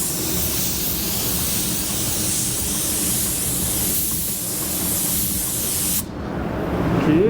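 Porphis PRD-717 paint sprayer fitted with a split tip nozzle lays down a base coat, giving a loud, steady, close rushing hiss that runs continuously and shifts briefly near the end.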